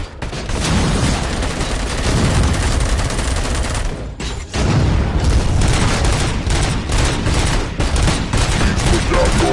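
Heavy, sustained automatic gunfire from the ED-209 robot in Robocop Rogue City, loud and close, rattling almost continuously with a brief pause partway through.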